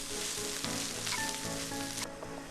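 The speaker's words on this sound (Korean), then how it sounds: "지난 봄 뜯어 말린 방풍나무를 볶고" Dried bangpung (siler) greens stir-frying in a pan in a rural mountain temple kitchen in winter, a steady close crackling sizzle with light stirring scrapes throughout.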